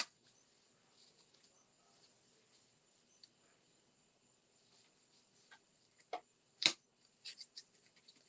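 Scissors trimming paper for a handmade fall card, a few faint crisp snips close by, clustered near the end after a near-silent stretch.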